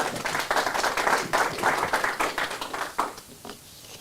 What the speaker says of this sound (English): And Erin is from Community Outreach. So would you give Erin a big round of applause?